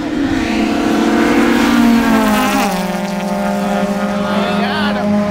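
A Honda race car with a GSR transmission accelerates hard in a head-to-head race, its engine droning loudly and climbing steadily through long gears, heard close from inside the car.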